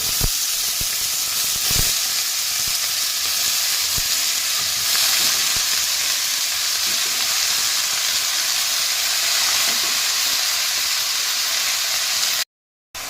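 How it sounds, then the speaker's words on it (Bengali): Chopped spinach and prawns sizzle hard in a hot pan, a dense, steady frying hiss with occasional sharp crackles and stirring clicks, close and loud, cutting off briefly near the end. "ভাজা ভাজা হয়ে গেছে, এবার দেবো কেটে রাখা পালং শাক।"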